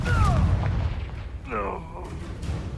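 A Confringo blasting spell going off in a wizarding video game, a heavy booming burst up front followed by a short ringing magical crackle, loud and close.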